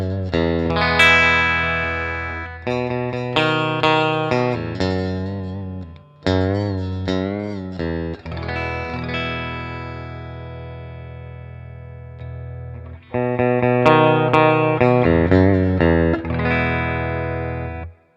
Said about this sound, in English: When I pressed it in and got the humbucker, it got fatter sounding.